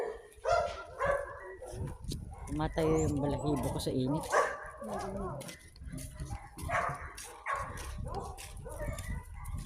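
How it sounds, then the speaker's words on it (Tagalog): A dog barks, yips and whimpers in short repeated bursts on a hot outdoor walk, fairly close, mixed in with people talking nearby. "May aso doon."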